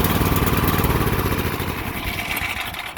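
A Sears lawn tractor's small engine runs close by, a loud, steady, chugging putter with a rapid pulsing rhythm that stays constant throughout.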